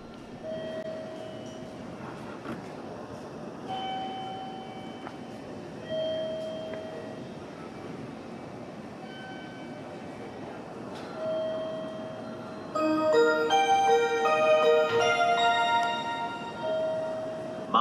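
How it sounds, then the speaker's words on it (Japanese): A four-car local train bound for Okazaki rolls into Kariya Station on the JR Tokaido Line with a steady low rumble, squealing brake tones, and a chiming platform melody toward the end. "番線に普通列車岡崎行きが到着します"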